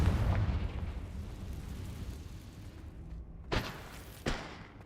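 A Confringo blasting spell going off in Hogwarts Legacy, a rumbling, booming burst that fades, followed by two sharp thuds near the end.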